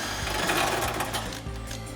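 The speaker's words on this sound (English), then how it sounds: "We're going to take a 13mm socket to remove this bolt." A 13mm socket on a ratchet loosens a bolt on a rear bumper support bracket of a 2020-2026 Sierra 2500, giving a steady, close mechanical whirring and clicking for about two seconds with no talk.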